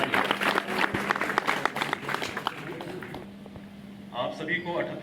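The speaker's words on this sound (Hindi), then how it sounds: "आप जोरदार तालियां बजा दीजिए" Audience applause at an Independence Day flag-hoisting ceremony at a district collectorate, a dense burst of clapping that fades after about three seconds, then a brief quieter patter of claps near the end.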